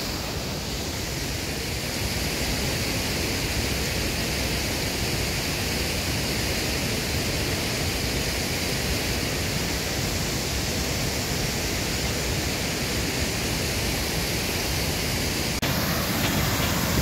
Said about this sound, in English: here I am at the top of Tangle Falls.